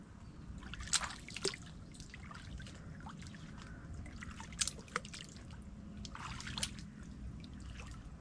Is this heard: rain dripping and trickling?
yes